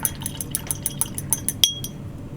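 Paint brushes used on an old scale model are rinsed in a glass jar of water, giving a quick series of close, light clinks and watery taps ending in one sharper glassy chime.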